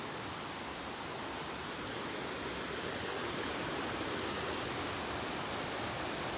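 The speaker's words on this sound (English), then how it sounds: "I'm amazed at how strong this river still is. It just doesn't stop." A strong mountain river flows along a backcountry trail, giving a constant broadband rushing roar that is unbroken and fairly soft, with no voices.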